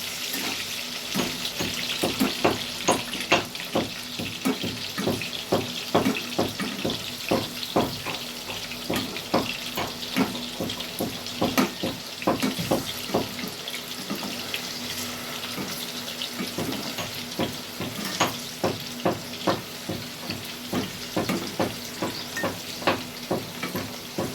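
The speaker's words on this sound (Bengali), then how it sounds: "এইভাবে উল্টে পাল্টে দিয়ে দিয়ে আলুগুলোকে ভেজে নিতে হবে।" Potatoes frying in oil for a no-onion potato and cauliflower dish, a steady sizzle punctuated by many rhythmic spatula scrapes and clicks against the pan as the pieces are turned over and over.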